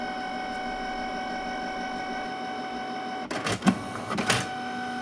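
A steady mechanical hum runs throughout, then a burst of clattering, whirring Canon printer mechanism noise kicks in near the end as it clears a P02 error, close and moderately loud.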